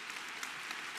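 An audience at a university academic-year opening ceremony applauds, a dense, even wash of clapping that holds steady through the brief moment.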